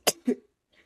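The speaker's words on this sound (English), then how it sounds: "I'm going to sneeze." A person sneezes twice in quick succession, each burst sounding like a short cough, followed by a faint breathy trailing sound, close and otherwise quiet.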